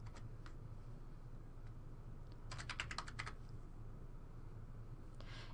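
Fingers type on a computer keyboard in short clusters of light, crisp key clicks, with a dense burst in the middle and quieter taps at the start and end, set against a steady low room hum with no voice.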